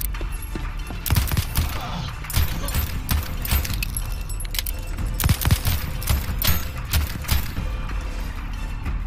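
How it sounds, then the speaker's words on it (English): Gunfire in a gunfight in the video game Voidtrain: scattered sharp cracks and bangs spread irregularly through a busy, clattering game soundscape, moderately loud and continuous. "The most anticlimactic gunfight ever."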